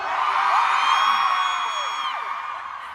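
Concert crowd at a sound check cheers and whoops loudly, a sustained roar with high shrieks and rising yells, strongest early and easing slightly toward the end.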